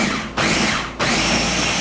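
A blender pulses soup ingredients in short whirring bursts, each separated by a brief dip, loud and close with no talking.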